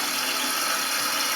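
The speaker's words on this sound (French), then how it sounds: "On ouvre son robinet" A tap runs steadily to refill a toilet cistern after a leak repair, giving a constant loud hiss of rushing water with no pauses.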